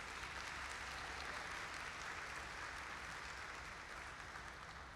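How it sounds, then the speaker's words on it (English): Steady audience applause at a live glassblowing demonstration, a dense, even wash of many hands clapping that continues without pause for the whole stretch, with no voices above it. "give him a round of applause, please"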